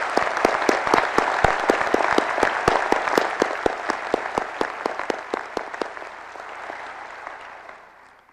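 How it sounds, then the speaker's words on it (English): An audience at a university presidential inauguration at Ball State claps in sustained, dense applause that carries on strongly and then gradually thins and fades away. "Please let us honor all of these delegates with our applause."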